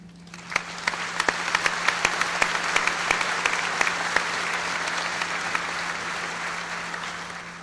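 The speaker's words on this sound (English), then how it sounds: "You may join me in applauding each student after their individual introduction." A sparse scattering of individual hand claps from an audience at a 2002 high school commencement greets an exchange student from South Korea, growing into steady applause over a low electrical hum.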